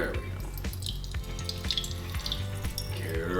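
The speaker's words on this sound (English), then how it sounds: "pour it in carefully this time" Water pours steadily with a trickling, splashing sound during a calorimetry lab, under a repeating low rhythmic beat of background music.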